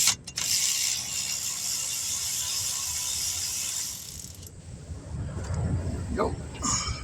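A ratchet works loose a rusted front brake bolt on a 2012 Ford Taurus, its mechanical clicking close by over a steady broadband hiss, with the background quieting partway through.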